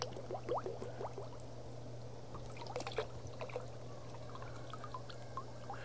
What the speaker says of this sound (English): I'm going to pour this whole bottle down the pump.